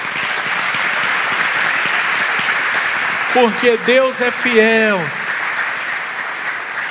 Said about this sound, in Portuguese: Eu queria que você aplaudisse a Jesus